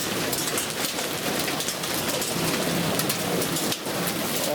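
Hail pelting down on a vineyard during a summer storm, a dense, steady hiss of hard impacts with sharper individual hits throughout and a brief dip near the end, with no voices.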